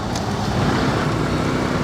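Steady roadway traffic near an expressway, a constant low rumble of cars and heavier vehicles passing with no breaks, fairly loud and close, with no talk over it.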